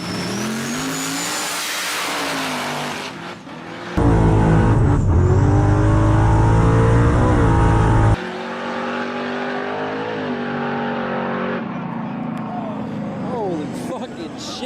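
Trucks street racing, including a Chevrolet S10 from Ohio, roaring hard under full acceleration with gear changes and a sudden louder close burst of engine noise, while people talk over it.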